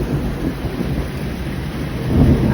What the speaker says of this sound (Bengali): ওই যে দেখেন ঝড় বৃষ্টি আর মানে নেই।